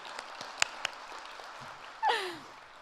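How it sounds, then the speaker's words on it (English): Audience applause at a community talk on attracting and keeping immigrants in small centres: a short burst of clapping swells near the end, preceded by faint room noise and a few isolated clicks. "Let's clap him."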